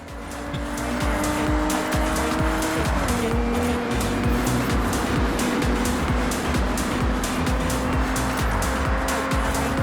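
A Toyota Camry TRD driven in the racing game Forza Horizon 6, its engine droning loud and steady with a gear shift, tires squealing and skidding throughout.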